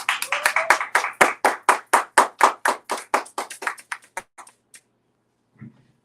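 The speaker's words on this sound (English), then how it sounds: "let's give a round of applause for our distinguished guests today" Audience at a panel discussion on Black male adolescent mental health applauding the guests, a burst of roughly twenty sharp, distinct claps that thin out and stop, followed by a brief faint sound near the end.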